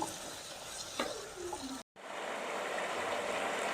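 Onions sautéing on high flame in a pan for kuska biryani, a close steady sizzle with stirring scrapes and a brief clank, continuing throughout.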